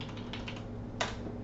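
A few quick keystrokes on a computer keyboard while entering a Cisco switch command, soft close clicks with one slightly sharper tap, heard alone over faint background hum.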